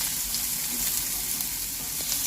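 Green chillies sizzle in hot oil for a quick tempering for sorakaya perugu pachadi, a steady bright crackle close by with no voices.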